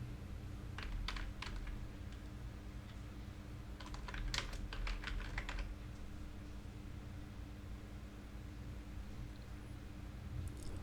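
Typing on a computer keyboard while searching for a WordPress plugin, with quiet clusters of quick key clicks in short bursts over faint background hiss, close and soft, with no one speaking.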